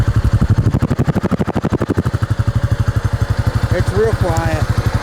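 A Honda Rancher ATV idles with a custom stainless-steel silent muffler welded on, giving a steady, quiet, rapid thumping putter close by, with someone talking over it near the end.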